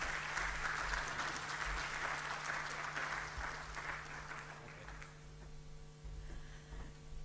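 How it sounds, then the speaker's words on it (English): An audience claps in welcome of someone speaker introduced at a formal welcome session, a dense steady applause that slowly thins and fades toward the end over a constant low hum. "Please give her a clapping hand."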